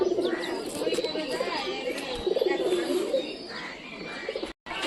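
Pigeons coo steadily while being fed maize on the ground, soft rolling low calls repeating close by, with light chirps and rustling around them.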